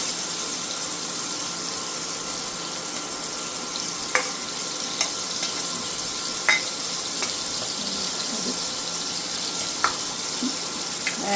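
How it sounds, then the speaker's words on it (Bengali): Mourola fish lightly frying in a pan of oil, a steady bright sizzle throughout with a few sharp pops and spits standing out, no talking. "মাছগুলো ভাজা হচ্ছে হালকা, একদম হালকা করে ভেজে নেওয়া হবে।"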